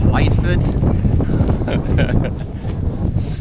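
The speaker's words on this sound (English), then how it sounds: "It's quite windy" Strong wind on Dartmoor buffets the microphone in a constant, roaring rush, with a few faint higher tones flickering through it.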